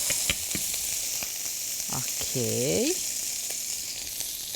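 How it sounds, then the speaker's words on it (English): Bacon frying with chopped cabbage and mushrooms in a pan gives a steady broadband sizzle throughout, with a few stirring clatters and a brief spoken word partway through. "So bacon is good to cook it until crispy."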